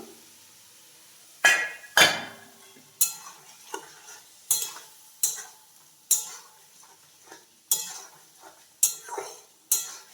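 Pointed gourd pieces go into a pan of curd masala with whole chillies, giving a string of sharp, evenly spaced clatters and scrapes from the utensil against the pan over a faint sizzle.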